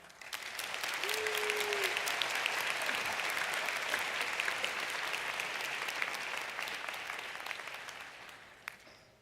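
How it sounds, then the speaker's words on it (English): A big audience at a University of Michigan commencement ceremony claps steadily, a broad wash of applause that swells, holds for several seconds, then tapers off. A brief tone sounds early on. "Give yourselves a round of applause."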